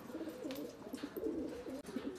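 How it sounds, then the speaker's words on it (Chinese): Fifteen racing pigeons back at the loft after a 156 km training release coo in repeated low, throbbing phrases, several birds overlapping at close range, with one sharp click near the end. "我们15个鸽子今天的信放已经完美结束，全部到齐了"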